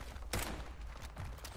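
Gunfire in the video game Fallout 76, a couple of sharp distant shots in quick succession against a quiet background.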